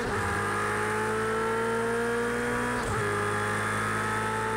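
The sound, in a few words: Ferrari 488 race car engine in video game Project CARS 2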